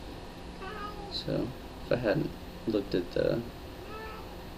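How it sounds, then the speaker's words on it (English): A house cat meows several times, short and fairly close, alongside a person talking. "That's my cat."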